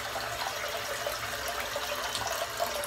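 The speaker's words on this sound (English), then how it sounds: "I'm just going to fill the bowl up with some cold water." Cold tap water running into a bowl at a bathroom sink, a steady, close hissing splash that continues evenly without pause.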